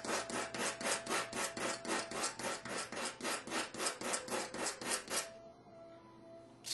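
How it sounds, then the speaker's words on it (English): Extremely coarse 80 grit sandpaper rubbed by hand in quick, regular back-and-forth strokes while shaping a fishing float, about twenty rasping passes close up, then stopping abruptly. "I'm going to go back to the sandpaper. and in this case is extremely coarse 80 grit sandpaper."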